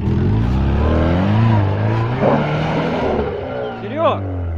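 A UAZ Hunter off-road SUV engine revs hard and loud throughout on a trial course, its pitch rising and falling, with people talking and shouting over it.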